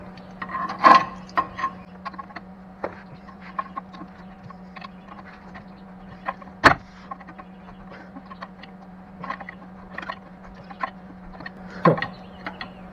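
A rusted 1957 Chevy engine, abandoned in a field for 57 years, is turned over by hand at the flywheel, giving slow, irregular scraping and creaking rubs with occasional sharper clunks against a steady low hum.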